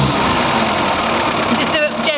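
A Morris Minor car engine, fitted with a Colour Tune, runs loud and close in a dense, steady roar throughout, with a voice briefly audible near the end.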